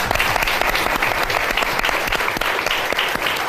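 A studio audience applauds during a TV game segment, with a continuous dense wash of clapping at a steady, loud level and no voices over it.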